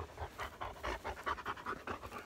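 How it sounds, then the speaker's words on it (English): A hunting dog pants rapidly and steadily outdoors during an upland bird hunt, with quick rhythmic breaths close to the microphone and no talking. "Damn dog."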